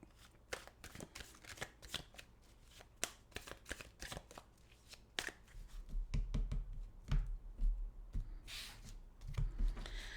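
Tarot cards are shuffled by hand close up, making rapid papery riffles and soft slaps that run in uneven bursts and grow busier and louder toward the end, with no talking.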